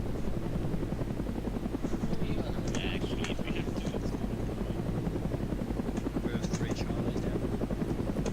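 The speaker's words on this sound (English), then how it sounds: "Get in the Chinook." A Chinook helicopter in a military video game thrums steadily with a loud, continuous rotor drone, while radio chatter and brief beeps sound faintly over it.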